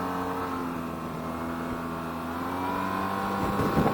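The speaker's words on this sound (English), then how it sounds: "You can't help but wind that throttle and just hear that engine roar, that twin cylinder power." 2025 Yamaha TMAX 560 scooter's twin-cylinder engine revving, a close, continuous throaty drone that swells slightly in pitch and loudness toward the end.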